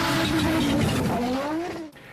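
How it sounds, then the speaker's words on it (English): Audi quattro five-cylinder engine pulling hard and loud at close range, its rising tone sweeping upward for about two seconds before cutting off abruptly. "This 5-cylinder sound is something very, very special."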